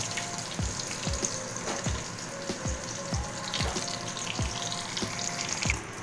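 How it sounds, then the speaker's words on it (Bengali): Stuffed pointed gourd (potol) frying in oil one piece at a time, a continuous bright sizzle with periodic light knocks from handling, close and steady, with no talk. "বাকি পটলগুলো ঠিক এইভাবেই এক এক করে ভেজে তুলে রাখবো।"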